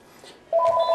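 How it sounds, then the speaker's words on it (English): A home telephone rings loudly and close in a kitchen, the electronic tone starting abruptly halfway through after a quiet moment. "the phone hadn't rang all morning, and it's rang twice while I'm trying to do a minute and a half worth of video"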